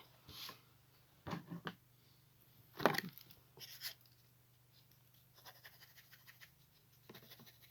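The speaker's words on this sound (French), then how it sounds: "Je vais l'effilocher." Denim jeans being scratched to fray the fabric, heard as a few short, dry scratching bursts up close against a quiet background hum, with faint lighter scratches afterward.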